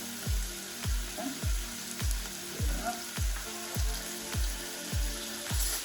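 Vegetables and garlic frying in a pan for a vegan lasagne, a soft steady sizzle punctuated by regular scraping and tapping strokes as the mix is stirred, about two per second.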